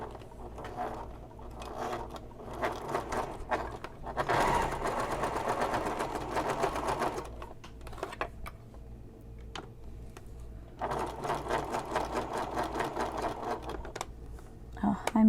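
A sewing machine with a Teflon foot stitching vinyl for a messenger bag, running in uneven bursts of rapid mechanical chatter separated by pauses and clicks, close by, with a voice speaking between runs.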